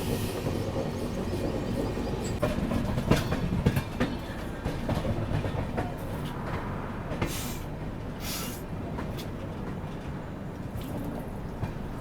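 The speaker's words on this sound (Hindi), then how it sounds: "अभी अपनी ट्रेन पहुंच रही है बस इंदौर" Rameshwaram–Firozpur Humsafar Express train arriving at Indore: a steady rumble of wheels on track, with clicking rail joints and occasional brake hiss, heard from on board.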